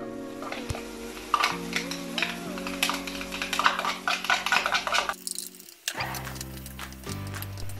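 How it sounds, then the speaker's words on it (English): Onions frying in a pan give a steady crackling sizzle under tonal background music, with a brief drop near the end before the sizzle returns. "Then we add the onions here."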